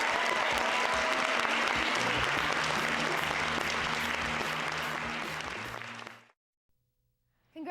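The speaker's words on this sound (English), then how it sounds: "big round of applause to all the movie makers" Dense audience applause for movie makers at a film screening finale, a full, even roar of clapping with a low hum beneath it, carrying for about six seconds before cutting abruptly to near silence.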